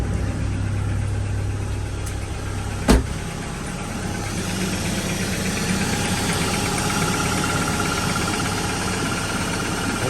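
A Chrysler PT Cruiser engine settles into a steady idle just after starting, a continuous low rumble with a sharp click near the start and a fan whooshing as it runs.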